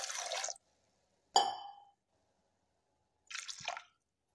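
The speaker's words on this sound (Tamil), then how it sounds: "தேவையான அளவு இதில் தண்ணி விட்டுக்கலாம்." Water pours in three short separate splashes into a pressure cooker holding lentils, turmeric, garlic and salt for a Tamil dal, each burst close and fairly loud with silence between and no talk.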